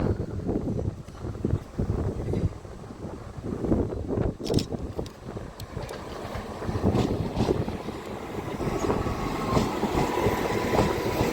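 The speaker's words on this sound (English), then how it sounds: "Next up to arrive on platform 4 is the 1630 East Midlands Railway service from Nottingham to Skegness" An East Midlands Railway Nottingham–Skegness service, a class 174 unit, rolls into platform 4 at Grantham with a steady mechanical rumble, wheel clatter and passing wind noise, plus a faint high squeal near the end.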